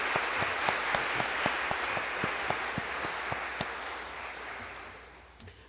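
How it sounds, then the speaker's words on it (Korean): Applause from a church congregation during a Korean-language service in Vancouver: a dense patter of many hands with sharp individual claps, fairly quiet and fading toward the end, with no talk over it. "우리 하나님 앞에 한번 영광의 박수 돌려드리십시다."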